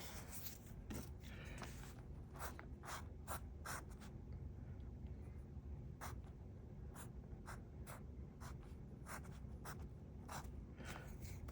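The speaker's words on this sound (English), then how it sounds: "I'm drawing something to really allow you to see that each place" A pencil moves across paper in soft, faint strokes and short scratchy marks. The strokes come in an irregular rhythm, close and quiet, with no talking.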